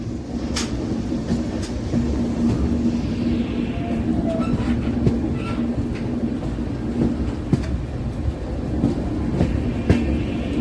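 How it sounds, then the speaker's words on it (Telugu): Humsafar Express train running on a double line between Srikalahasti and Renigunta toward Tirupati, a steady loud rumble of wheels and carriages with occasional clicks and squeals as it takes a full curve. "ఫుల్ టర్నింగ్ కొడుతుంది మన బండి."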